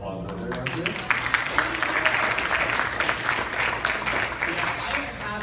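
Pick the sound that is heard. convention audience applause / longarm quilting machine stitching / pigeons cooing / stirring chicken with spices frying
convention audience applause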